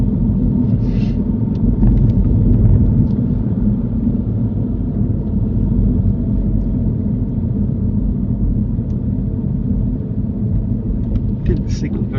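A car drives along a road during a driving lesson, giving a steady low engine and road rumble with faint cabin noise throughout, and occasional short sounds near the start and end.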